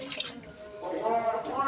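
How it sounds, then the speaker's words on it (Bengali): Water being poured into a pot of warm milk while making handmade semai vermicelli, a short steady liquid pour and splash close by. "যে এতে আমি এবার একটু পানি মিশাই দিচ্ছি,"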